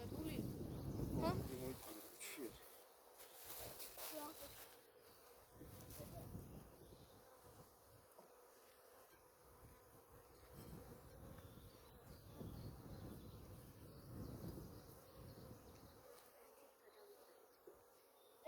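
Honey bees buzz around a beehive during a hive change, a continuous insect drone with swelling bursts as bees pass near, mixed with rustling and low outdoor noise.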